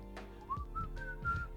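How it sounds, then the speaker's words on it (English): A person whistles a short tune alone: a few clear, sustained notes rising and held, fairly quiet and close, with no talking over it. "He's sitting there whistling"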